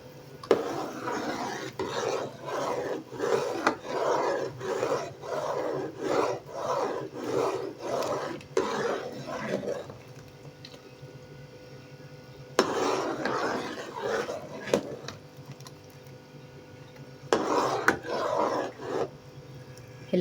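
A spoon stirs homemade sharbat syrup in a pot after a dash of red food colour goes in, scraping in quick rhythmic bursts that stop and start in three separate spells, close and moderately loud with no voices.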